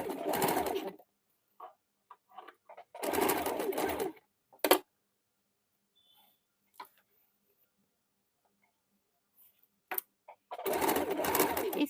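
A sewing machine stitches around the sleeve of a men's short kurta in three short whirring bursts separated by quiet gaps, with occasional faint clicks from the fabric and machine handling in between.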